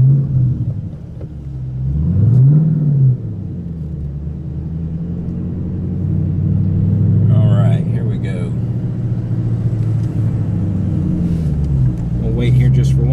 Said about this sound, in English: All right, so let's go ahead and take a drive.